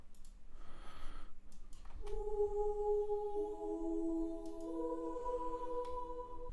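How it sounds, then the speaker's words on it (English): Sustained ambient choir pad from an Expand 2 preset, layered vocal tones holding steady chords with a soft airy wash, starting after a brief noisy swell and continuing evenly to the end. "Then we have like an ambient choir."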